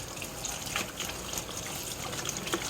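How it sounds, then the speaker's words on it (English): Tap water runs steadily in a kitchen sink as an ear of sweet corn on the cob is rinsed, a close, continuous splashing trickle with small irregular spatters and no talking. "I'm just going to rinse this off."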